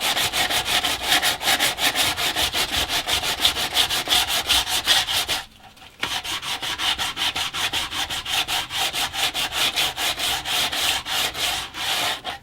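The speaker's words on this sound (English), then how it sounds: "I'm going to start sanding down this part first, then sand the bottom part before staining" Sandpaper rubs by hand across a wooden shelf in quick, regular back-and-forth strokes, close and scratchy, with a brief pause midway before the rhythmic rasping resumes.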